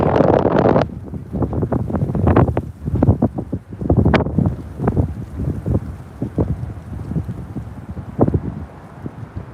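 Gusty wind buffets the microphone in loud, irregular bursts and thumps, rough and close, with no one speaking.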